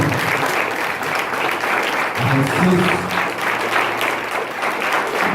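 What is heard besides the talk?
congregation applause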